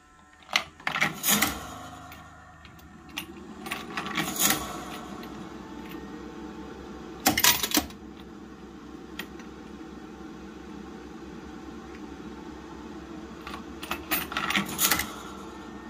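Autofeeder machine running and feeding, with a steady low mechanical hum broken by sharp clattering bursts at irregular intervals, close by with no talking.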